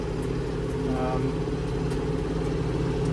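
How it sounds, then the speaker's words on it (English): Tractor engine running while mowing a large field near a pond, a steady low droning rumble with constant mechanical hum, close and continuous, with a brief higher whine in the middle. "So I decided to hop in the tractor and start getting some mowing done."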